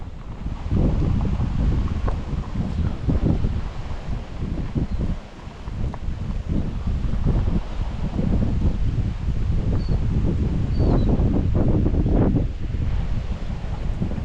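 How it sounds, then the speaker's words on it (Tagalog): Strong mountain wind in the Sierra Madre buffets the microphone, a loud, continuous rushing roar with gusty surges and rustling throughout, no voices over it. "Ang lakas ng hangin."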